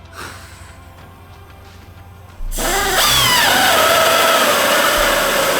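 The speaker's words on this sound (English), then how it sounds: "This drill bit sucks." A power drill starts up loudly after a quiet stretch and runs steadily, whining as it bores holes in a Kitfox 4 airplane, close by with no talking.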